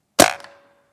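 A single sharp crack from a Beeman underlever air rifle firing a JSB pellet, close and loud, with a quick decaying ring and faint metallic tone trailing off after the shot.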